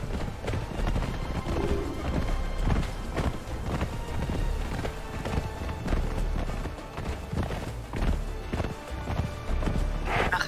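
Horse hooves clip-clop steadily in Conan Exiles, a continuous rhythmic gallop of clear hoofbeats at close range, fairly loud, with a voice speaking now and then.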